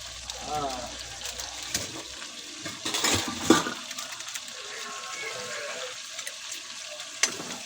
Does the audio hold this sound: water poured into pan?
yes